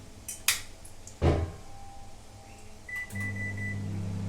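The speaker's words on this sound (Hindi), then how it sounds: "इसको मैं माइक्रोवेव में 2 से 4 मिनट तक इसको माइक्रो मोड पर कुक करूंगी।" A few clinks and a thump of a door closing, then a microwave oven starts up in micro mode, cooking brinjal, with a steady low electric hum.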